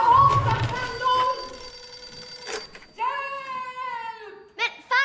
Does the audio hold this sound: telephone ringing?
yes